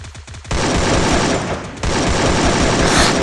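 Loud, rapid automatic gunfire bursts fill a Free Fire MAX battle-royale match, crackling in dense volleys with no voices over them.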